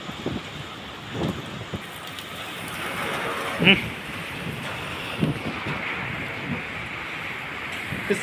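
Heavy rain pours down in Vientiane, a steady dense hiss with occasional louder splashes and gusts, recorded close by with no voices over it.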